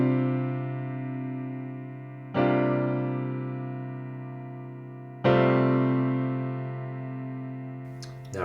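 Piano chords from the intro and verse of a song, with the left hand added: three struck chords, each ringing and slowly decaying, played close with no voice over them.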